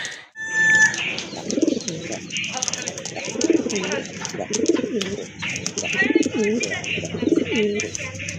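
Madrasi Golla pigeons coo in low, throaty, repeated rolls at regular intervals, close and clear, with faint chirping behind them.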